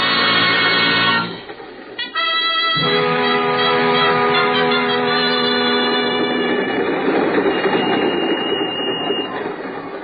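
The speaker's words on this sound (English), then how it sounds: "Well, Harry, there I was, on a train heading straight for Madrid" Radio drama effect of a train travelling toward Madrid, a steady loud rolling rumble with high squealing tones and a brief dip early on, running alone without voices.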